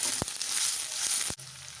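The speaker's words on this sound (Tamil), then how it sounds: "எல்லாமே சேர்ந்து நல்லா வதங்கிட்டோம்" Small onions and a green chilli sautéing in a pan give a low steady sizzle, broken by a couple of sharp utensil knocks near the end, with no voices.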